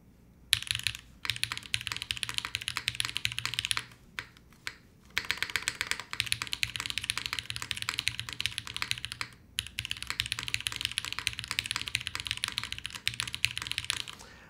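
Fast typing on a KBDFan KBD8X mechanical keyboard with an aluminum case, close and crisp clacking in continuous runs broken by a few short pauses.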